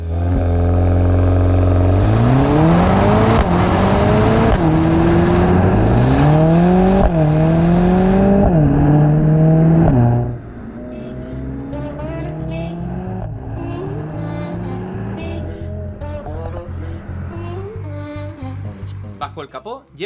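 Four-cylinder 2-litre turbo engine of a 2020 Mercedes-AMG A 45 S 4MATIC+ revving hard through several upshifts, loud and close, then easing to a lower, steadier drone with lighter throttle blips, with a voice speaking over it.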